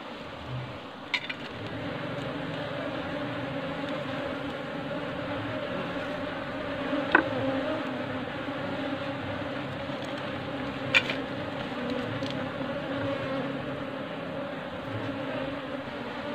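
Apis cerana honey bees hum steadily around hive frames during beekeeping, a continuous close buzz with a few brief louder passes and no talking.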